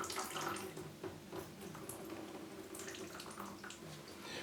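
Water is poured from a can or jug onto the exposed root tips of potted orchids, a close, steady splashing trickle with a faint hiss.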